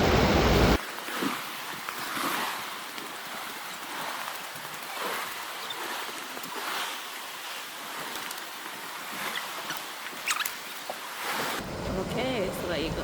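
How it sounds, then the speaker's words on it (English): Sea water surges into Merlin's Cave at Tintagel beside a waterfall, producing a loud, continuous rushing wash with swelling surges, broken by a few brief bursts of wind buffeting the microphone. "The water's right in, and this is the waterfall"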